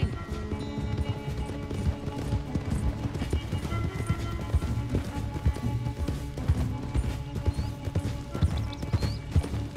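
A horse gallops hard during a Red Dead Redemption 2 race, its hoofbeats thudding in a rapid steady rhythm, up close, layered over sustained musical score.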